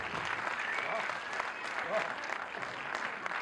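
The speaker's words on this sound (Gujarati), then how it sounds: "એકવાર આ સાઉન્ડ મિત્રો માટે તાળી પાડો." Soft, fairly distant applause fills a town hall during an arangetram dance recital as the audience claps for the sound crew, steady and sustained with a faint murmur of crowd beneath.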